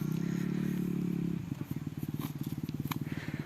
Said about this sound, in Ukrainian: Хлопи рейтерують мотоциклями.